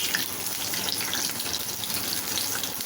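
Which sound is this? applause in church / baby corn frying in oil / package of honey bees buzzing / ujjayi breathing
baby corn frying in oil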